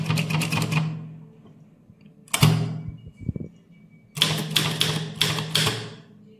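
A typewriter at work on a legal proceeding letter in senior English typewriting practice: rapid bursts of sharp key strikes close up, separated by short pauses and a few isolated clacks.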